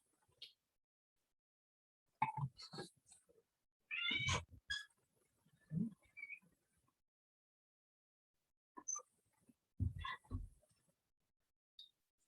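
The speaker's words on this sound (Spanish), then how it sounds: "El gato quería salir." A house cat that wants to go outside meows several times indoors, with short, fairly quiet cries spread across stretches of silence and no talking over them.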